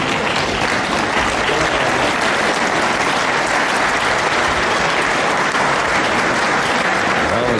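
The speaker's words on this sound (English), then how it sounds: "Nice applause from obviously a discerning crowd here at the Hexagon at Reading" A boxing crowd applauds after an afternoon bout at the Hexagon in Reading, a fight between Jon Cortez and Pete Lapaque. The applause is loud, sustained and even, filling the hall without a break.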